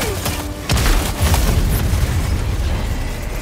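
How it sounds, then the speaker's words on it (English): Heavy enemy artillery blasts in the Helldivers 2 video game, a loud boom at the start followed by continuous rumbling explosions that fill the scene without pause. "Warning, you are in range of enemy artillery."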